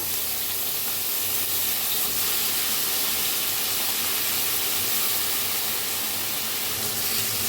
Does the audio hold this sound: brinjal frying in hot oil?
yes